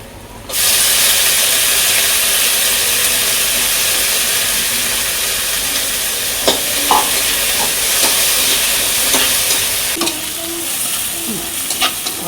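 Garlic and onions frying in a pan, a steady broadband sizzle throughout with occasional stirring scrapes and clinks toward the end; close and fairly loud, no talk.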